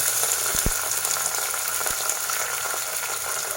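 Curry leaves, dried red chillies and onions frying in hot oil for a Telugu tempering before making charu, with a steady close sizzle and a couple of sharp pops and spits.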